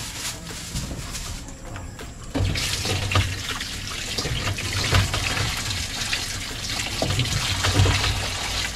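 Tap water runs steadily into a sink as vegetables, including tomatoes, are washed, a continuous close splashing stream with shifting gurgles and trickles as the produce is handled.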